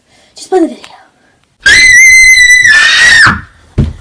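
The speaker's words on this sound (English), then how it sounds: "stop screaming!" A child screams during a temper tantrum: one loud, shrill, sustained shriek of about a second and a half, framed by shorter vocal sounds before and after.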